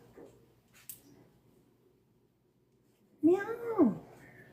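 A cat meows in a short series of rising and falling calls near the end, loud and close, after a quiet stretch with faint household sounds.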